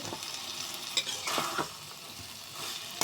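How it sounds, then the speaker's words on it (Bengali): Chopped potatoes sauté in a pan of curry base, with a steady sizzle broken by several sharp scraping stirs and clinks of a utensil, close up. "এখন বেশ কিছুক্ষণ আলুটা কষিয়ে নেব।"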